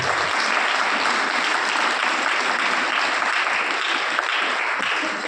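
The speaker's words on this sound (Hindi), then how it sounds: "प्रभु यीशु नासरी के लिए जोरदार ताली।" A church congregation applauds loudly and steadily, a dense sustained wash of many hands clapping throughout.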